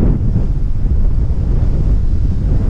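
A strong crosswind buffeting the microphone beside water during float fishing, a loud, continuous low roar with no pauses and no voices.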